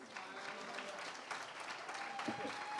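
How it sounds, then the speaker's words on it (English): Conference audience members clap in a brief, steady round of applause after a panel discussion, moderately distant, with a voice briefly cutting in near the end. "Let's give another round of applause."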